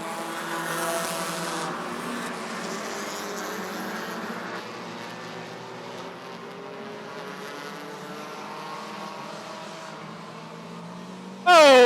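Bandit-class race cars lap Rockford Speedway with a steady, continuous engine roar from the field that stays fairly loud and even throughout, with a brief louder burst at the very end.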